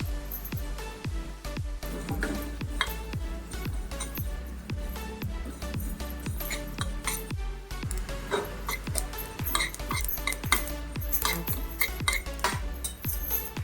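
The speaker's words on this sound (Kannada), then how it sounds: "ಬಿಳಿ ಎಳ್ಳು ಹಾಕೋತಾ ಇದ್ದೀನಿ ನಾನಿಲ್ಲಿ." One to two tablespoons of white sesame seeds are dry-roasted in a pan for a temple-style tamarind rice spice powder, with steady rhythmic scraping and light metallic clinks of stirring, close and continuous, with no speech.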